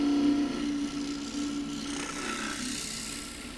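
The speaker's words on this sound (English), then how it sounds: "This is the 1/8 inch depth gouge, so I'm going to the marks just above the black line." A 1/8 inch depth gouge cuts into a small pistachio wood bowl on a lathe, giving a steady scraping rasp with a constant hum, close and alone for a few seconds.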